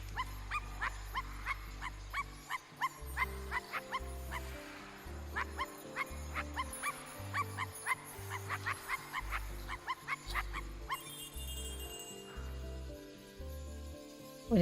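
In the video game I Am Dead, a cartoonish dog yips and barks again and again in bouncy clusters over a pulsing low game melody, the barking thinning out toward the end.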